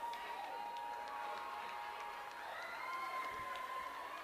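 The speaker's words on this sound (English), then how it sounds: "Huge roar from the crowd." Crowd at a school football match between Pleasantville and Naparima College roaring and cheering in a steady wash of noise, heard from a distance with whistle-like tones over it.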